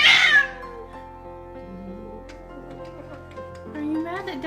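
A pet cat meows once at the start, loud and close, a rising-falling cry, followed by a quieter room with faint tonal hum and some soft vocal sounds near the end.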